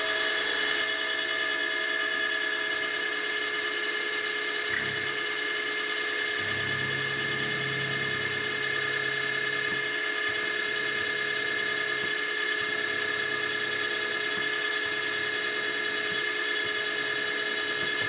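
A drill bores into a small metal part for a sine bar on a machine shop setup, a steady high motor whine running continuously throughout with a low rumbling hum that shifts as the bit cuts.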